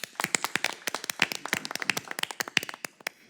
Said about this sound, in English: Let's give a round of applause for Mr. Waters